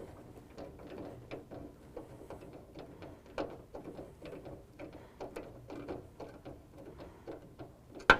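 Ratchet tightening a bolt on a tonneau cover header rail of a 2017 Nissan Titan pickup, a quiet, steady series of rapid clicking pawl strokes heard close up.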